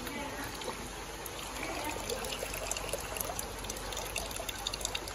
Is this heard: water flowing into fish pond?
yes